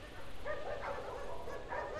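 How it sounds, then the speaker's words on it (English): Dogs bark and yip in the ArmA3 video game, faint and distant, a few short overlapping calls over a low ambient background, with no talking. "the dogs already know we're here. You hear them, right?"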